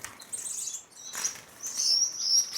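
Gouldian finches flap their wings in quick bursts close by, with thin, high chirps between and over the flapping. There is no talk.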